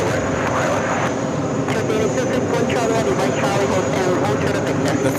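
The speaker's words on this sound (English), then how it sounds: "this Emirates A380 came in from Dubai" Emirates Airbus A380 jet at JFK airport, heard as a loud, steady, broadband engine roar that holds without break through the whole stretch.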